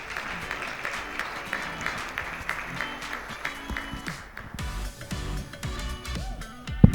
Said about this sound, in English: if you could please receive her with a round of applause